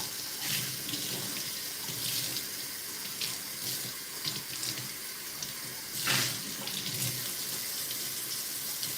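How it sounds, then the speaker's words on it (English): Kitchen sink tap running steadily while a bowl is washed out, a constant close hiss of water with occasional splashes and clinks as the bowl is handled, no talk. "Probably gonna end up using this bowl again, so I'll wash this out too."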